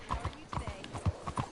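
Horse hooves clip-clop in the video game Red Dead Redemption 2, a quick uneven run of close, distinct hoof strikes with someone talking over them.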